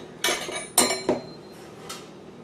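A half-cup measuring scoop knocks and clinks against a container while scooping sugar for cake batter, giving three sharp close taps followed by a fainter fourth.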